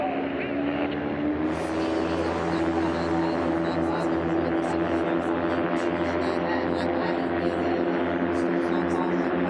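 Light STOL aircraft, including a Kit Fox, revving at the start of a drag race, a loud steady propeller-engine drone with harmonic whine that rises sharply in intensity after the first two seconds.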